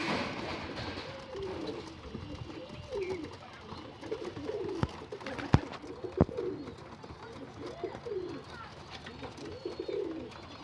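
Pigeons coo in soft, rolling bursts that repeat steadily throughout, with a few sharp clicks and flaps of a pigeon keeper's birds close by.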